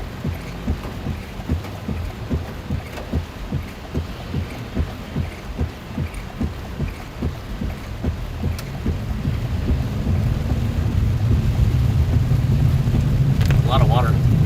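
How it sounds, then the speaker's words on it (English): Heavy rainstorm in McKinney, North Texas, with water running down a hill, a steady rushing wash that swells louder over time, with low rumbles and occasional thumps. "Quite the nice beneficial rainstorm for sure."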